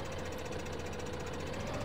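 A continuous, knocking tractor engine from Farming Simulator 15, steady and rhythmic with a rough pulsing idle, heard alone and close.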